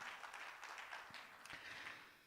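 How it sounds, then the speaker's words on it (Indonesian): A church congregation applauds at length in praise of God, a dense, steady wash of many hands clapping that sounds fairly distant and soft, with no voices standing out. "Berikan tepuk tangan yang panjang buat Tuhan"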